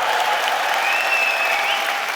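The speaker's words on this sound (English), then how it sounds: "He wouldn't be able to give him a round of applause." Rally crowd applauding a concrete truck driver, a steady wash of clapping with a faint tonal whistle or cheer riding above it.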